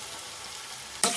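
Curry leaves hitting hot frying oil for a chicken curry, a sudden loud sizzle bursting in at the end over a steady background hiss of frying.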